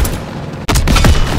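Small-arms gunfire in the World War II shooter Call of Duty WWII, a loud, dense fusillade of overlapping rifle and machine-gun shots with a sharp burst in the middle, close and continuous with no speech.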